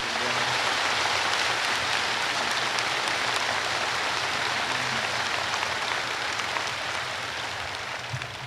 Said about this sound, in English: Let us give Minister Muhammad a warm round of applause.